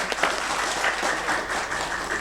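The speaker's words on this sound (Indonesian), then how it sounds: "Sekali lagi tepuk tangan dong untuk Dep Dobi." Audience applause at a Ramadan safari company gathering in Cirebon, a dense, steady wash of clapping from a crowd filling the whole moment without pause.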